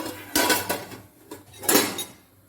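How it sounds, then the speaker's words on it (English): Raw salad vegetables, including capsicum, being tossed with a pinch of salt in a bowl, giving a few scraping, clinking bursts of utensil against the dish with quiet pauses between. "Mix it well again."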